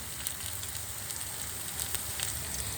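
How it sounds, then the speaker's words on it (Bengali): Noodle pakoras frying in hot oil give a continuous close crackling sizzle, steady and even throughout with no voices. "আমি পাকোড়াগুলিকে দিয়ে দিয়েছি এখন আমি এপিট এপিটুপিট লাল করে তারপর ভেজে নেব পাকোড়াগুলিকে"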